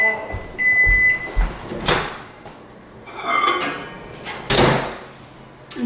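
Household oven door being shut after baking goes in, heard as a few close thuds and clunks of the door and kitchen handling, separated by quieter gaps.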